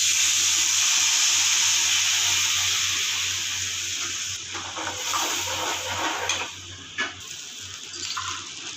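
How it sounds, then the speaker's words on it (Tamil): Water is rinsed and poured into a pan of lemon rice seasoning with spluttering mustard seeds, lemon juice and turmeric, giving a steady close wash of running, splashing water that eases off into a few brief splashes and clinks. "அதிலே நம்ம கொஞ்சம் தண்ணி அலசி ஊற்றிக்கலாம்."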